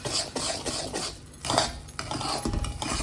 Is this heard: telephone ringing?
no